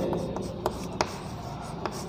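Pen or chalk writing by hand during a science lesson, a few faint scratchy strokes and taps spaced irregularly, quiet and close with no talk.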